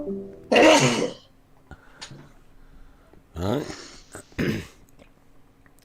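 A person sneezes during a live broadcast, with two or three close, sharp bursts of breathy noise separated by short pauses, and a brief spoken word in between.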